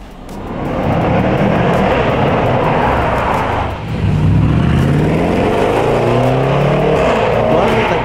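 A loud Jaguar F-Pace SVR engine drones steadily, close by, then dips briefly and rises again with a climbing, revving pitch.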